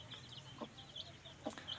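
A hen clucks near her chicks in a farm setting, with soft short calls and faint high peeps repeating every half second or so, fairly quiet.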